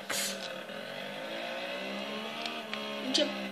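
A KTM race bike in the MotoGP 15 video game, its engine holding a steady high-pitched drone with harmonic whine and brief revs near the start and end, running alone at moderate level.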